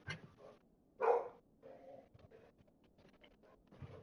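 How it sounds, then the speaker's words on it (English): A dog barks near a football game setting, one sharp loud bark standing out amid softer yips and panting-like noises and quiet background murmurs. "Why do you start barking every time you hear the other dog bark?"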